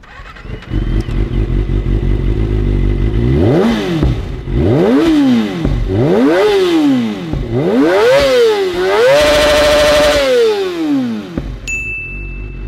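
A Kawasaki ZX25RR motorcycle with a Yoshimura R11 full-system exhaust revs hard five times in succession, each sweep climbing to a high, screaming pitch and dropping back, loud and close over a steady idle.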